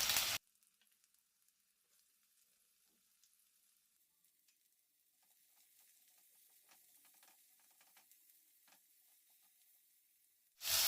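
Chopped onions tipped in with potato frying in a pan for a Bengali jackfruit kofta curry: a soft, faint sizzle that thickens midway, with scattered light crackles and stirring, and a louder burst at the very start and end.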